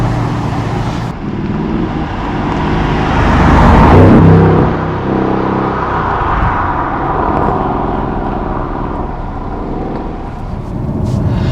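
Mercedes CLS63 AMG bi-turbo with resonator deleted, heard from inside while driving: a loud, continuous low exhaust drone and boom that swells with acceleration, then settles into a steady rumble with road and wind noise.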